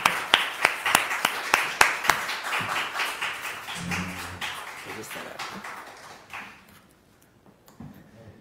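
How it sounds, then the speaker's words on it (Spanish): An audience greets novelist Teresa with applause: a few loud, distinct claps at the start spreading into fuller clapping that gradually thins and fades out, with brief murmurs of talk near the end. "Fuertes palmas, Teresa"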